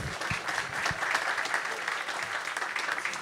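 Sustained applause from an audience at a French podcast debate with the showrunner of Le Bureau des Légendes, a dense steady wash of clapping at moderate level with no talk over it.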